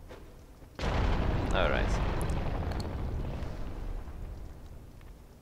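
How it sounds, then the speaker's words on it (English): A bomb explosion in Dark Souls II, an abrupt loud boom followed by a long rumbling decay lasting several seconds, with a brief spoken word before it. "I'm going to use, I think, a bomb to destroy these."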